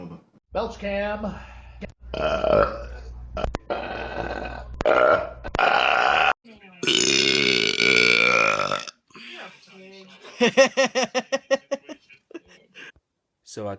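A series of short, close burps comes in quick bursts, one long raspy belch stretching through the middle, followed by a rapid rhythmic string of small gulping burps, with talking and chuckling between them.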